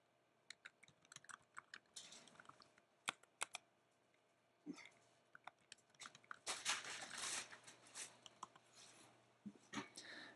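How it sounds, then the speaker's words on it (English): Fast, light clicking of a computer keyboard as a title is typed into a note-taking app, irregular bursts of quiet keystrokes with a denser flurry midway, no voices. "type in a title"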